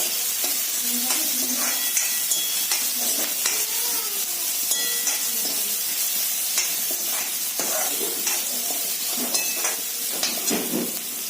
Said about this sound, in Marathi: तो चांगला म्हणजे असं कमी गॅसवरती असं व्यवस्थित तांबूस कलर येईपर्यंत आपल्याला परतून घ्यायचा आहे